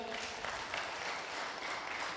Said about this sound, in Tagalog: Palakpak nga po muli kay God.